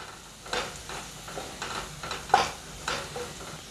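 Spices for chana dal methi sizzle in a hot pan while a spoon scrapes and stirs in short, repeated strokes, fairly close and moderately loud.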